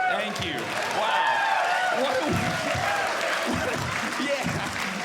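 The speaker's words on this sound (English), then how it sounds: "Thank you for clapping when I hypothetically killed a man" Comedy-club audience claps and laughs for a stand-up comedian, a broad wash of applause with bursts of laughter, fairly loud and continuous, with a voice talking over it.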